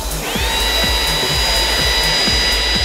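A Milwaukee M18 Quick Lock blower attachment runs steadily at full speed, a loud continuous whine of rushing air with a high motor tone, instantly at power from the start with no ramp-up.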